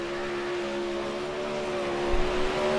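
Michael Hackett's Red Bull-sponsored 084 race car on its first lap gives a steady, loud engine drone with a held, humming pitch that barely changes, swelling slightly at the end.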